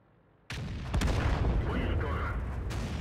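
A tank's main gun fires in the World of Tanks battle game, one sudden loud boom followed by a rumbling tail of battle noise that lingers to the end.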